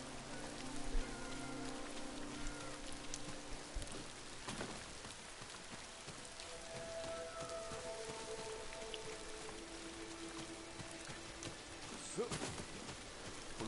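Steady rain hisses across a landscape in Ghost of Tsushima, a soft broadband patter that holds for the whole stretch with a few brief louder knocks and faint tonal game sounds underneath.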